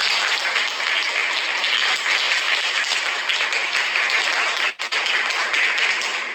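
An audience applauds at a Korean public talk, with dense, sustained clapping that carries on steadily with a brief dip near the end.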